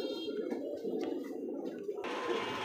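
Big Indian Bombay pigeons coo in low, throaty, rolling tones for a few seconds, close by and fairly soft, with a brief sharper rustle near the end and no talking.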